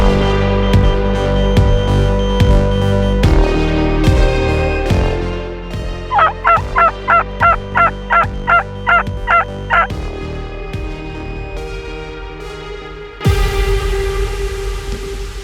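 Wild turkeys in British Columbia gobble in repeated rattling bursts, one run of about a dozen quick, evenly spaced calls standing out clearly among other close calls and rustling.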